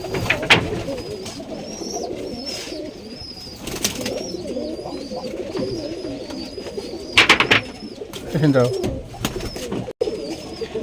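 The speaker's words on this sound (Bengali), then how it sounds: "ভাইয়ের কাছে দেখতে পাচ্ছেন দর্শকবিন্দু অনেকগুলা কবুতর" Many pigeons coo steadily at a pigeon farm, a layered murmur of overlapping calls with a few louder bursts and wing flutters, while someone talks over them.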